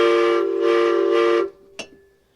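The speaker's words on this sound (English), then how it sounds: "One thing I didn't cover is this train horn." Train horn on a 2003 Prevost XL-2 Liberty coach bus blares a loud, sustained multi-tone chord for about a second and a half, followed by a brief sharp hiss as it cuts off.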